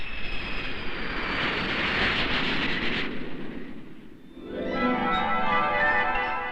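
Jet aircraft roar at LAX airport, loud and close, with a broad rushing drone that fades briefly before a second engine whine swells up with a high tonal scream.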